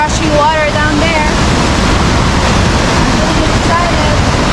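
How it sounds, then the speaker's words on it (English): Rushing river water in the Pulang Bato Falls canyon near Davao City, a loud continuous broadband roar filling the whole clip, with a voice speaking briefly over it near the start. "I can hear the rushing water down there."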